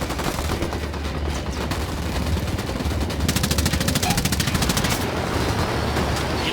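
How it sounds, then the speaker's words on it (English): Sustained automatic gunfire from the 2017 PC video game Ghost Recon Wildlands, dense rapid bursts continuing throughout, loud and close, with a dense crackling texture and no talk. "I'm shooting these fuckers."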